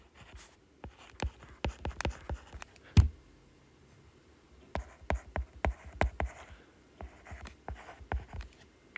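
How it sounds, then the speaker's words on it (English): A pen writes on paper in short bursts of scratchy strokes and taps while numbers are noted down, close and quiet, with a pause in the middle and no talking. "So I'm going to write down our given informations."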